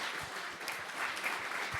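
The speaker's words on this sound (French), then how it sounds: "Merci d'applaudir nos intervenants." Audience applause for the speakers at a Deeptech Tour startup event in Pays de la Loire, a steady, moderately faint wash of clapping filling the whole short stretch without talk.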